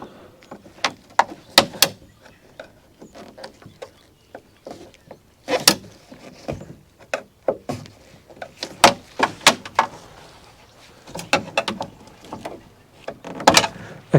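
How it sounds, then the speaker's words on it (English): A flat blade screwdriver pries a clipped plastic part off the door lock mechanism of a Mk1 Audi TT, making a series of sharp clicks, scrapes and snaps in irregular bursts over a quiet background. "So let's attack it with a flat blade screwdriver."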